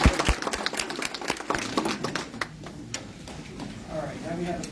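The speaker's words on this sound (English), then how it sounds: "Let's give her a big round of applause" Applause for a new citizen at a naturalization ceremony, a brief round of close hand claps that starts loud and thins out, with voices talking underneath.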